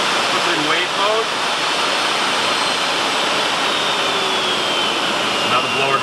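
A bathtub air blower in wave mode runs steadily, its broadband whoosh rising and falling in speed on its own, with faint whistling tones over the continuous rush.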